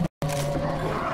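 A Hunter special infected in Left 4 Dead 2 lets out a loud, sustained, guttural roar that begins after a brief silent gap and drones steadily for about a second.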